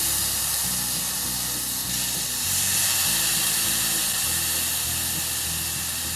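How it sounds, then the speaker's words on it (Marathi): A steady, loud hiss of hot oil with a low rumbling undertone, continuous throughout, as rice is added to a hot pan for masala pulao. "आता यामध्ये आपण तांदूळ घालून घेऊयात"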